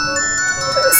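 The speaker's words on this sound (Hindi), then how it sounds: "फोन की आवाज आ रही है" A mobile phone rings with a tonal, repeating electronic melody, heard up close with a brighter burst near the end and no talking.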